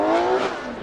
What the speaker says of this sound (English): You can hear him kind of blip the throttle, stay in it.